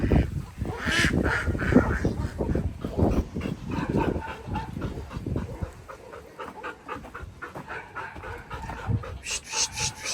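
Geese honking and gabbling as they wander around a yard in cold winter weather, a loud, busy, repeated chorus up close that thins out and then returns near the end.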